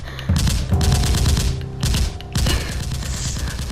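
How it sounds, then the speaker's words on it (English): Gunshots and gunfire in the Minecraft Crafting Dead zombie game, loud continuous rapid automatic bursts with sharp repeated cracks, dense and close throughout with no talking. "I can hear the gunshots."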